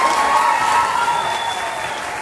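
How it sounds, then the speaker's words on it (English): Audience applause at a children's pageant, the Little Miss Apple Festival: a steady, dense wash of clapping from a crowd, sustained and fairly loud across the whole moment with no break. "give my co-MC, Miss Emma, a round of applause"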